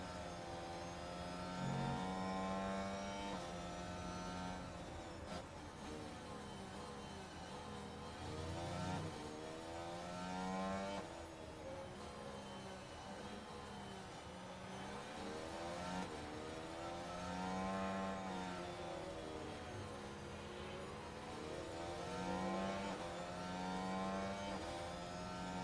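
F1 race cars in the F1 Manager 2023 video game, a continuous high engine scream that rises and falls as the cars accelerate and lift through corners, with overlapping engines from nearby cars and no talking.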